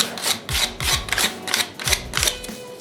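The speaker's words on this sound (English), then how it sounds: "This is a very fine sandpaper. I'm just going around the edges that were kind of" Fine sandpaper rubbing around the edges of a craft Easter egg, heard as about eight short rhythmic scratchy strokes, close and fairly loud with brief gaps between them.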